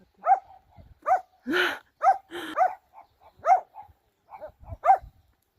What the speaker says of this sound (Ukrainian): На цих собак наставляєш камеру, вони перестають гавкати.